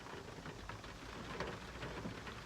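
Pouring rain beats down steadily in a continuous dense wash of drops on surfaces, with low rumbles mixed in and no voices.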